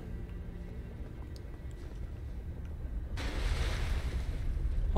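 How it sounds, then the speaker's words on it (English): Soft lapping water and low wave wash in Elden Ring: Shadow of the Erdtree, faint and steady at first, then swelling into a louder, broader rush of surf and wind partway through. "there's water here"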